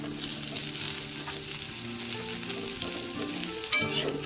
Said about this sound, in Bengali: বেগুনটাকেও তো ভাজতে হবে দিয়ে দিন বেগুনটাকে একসাথে করলা আলু সব